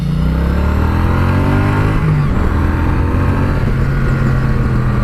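A Triumph Street Cup's 270-degree parallel-twin engine revs hard, its pitch climbing then dropping back before settling into a steady, loud throb, close by and without voices.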